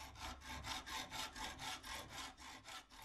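A file rasps back and forth on the cut end of a metal gyroplane engine lever, a steady run of about a dozen even strokes, close and rhythmic with no talking.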